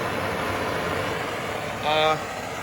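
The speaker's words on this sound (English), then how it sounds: "You can hear my little propane torch going." A small propane torch burns with a steady, broad roaring hiss while heating a 2004 Polaris Scrambler 500 swing arm during disassembly, constant and fairly close, with a brief brighter flare near the end.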